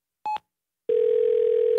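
A telephone handset sounds after the call button is pressed: a single short beep, a brief pause, then a steady, unbroken line tone holding at even volume.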